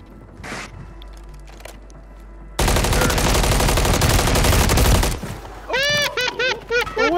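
Rapid automatic gunfire in a Call of Duty match, a dense, loud sustained burst lasting a few seconds after quieter sporadic shots, followed by clattering mechanical and ringing effects.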